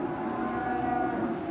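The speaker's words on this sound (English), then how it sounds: "Trophy Longhorn cow." Texas Longhorn cow mooing, a single sustained low moo with a steady droning tone that holds close and fairly loud for the whole moment, with no voices over it.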